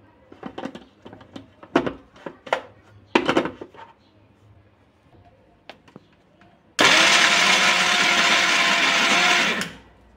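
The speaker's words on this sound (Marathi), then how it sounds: "आता या सर्वांना आपण मिक्सरमधून छान पेस्ट करून घेऊया" Some scattered clatter and faint knocks, then a loud, steady electric whirring of a mixer grinder grinding spices into a paste for about three seconds before stopping abruptly.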